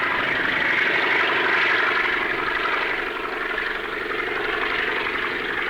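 A propeller plane's engine drones loudly and steadily during takeoff, a close buzzing roar that dips slightly midway without stopping.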